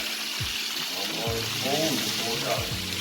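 Fish fries in oil in a pan nearby, sizzling and crackling steadily while people talk quietly over the frying.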